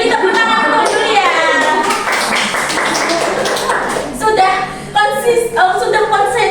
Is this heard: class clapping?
yes